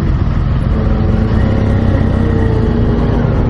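A 2016 BMW R 1200 GS Adventure motorcycle pulling away on a demo ride at Laguna Seca, its engine a steady, loud, close drone with constant low rumble and wind throughout.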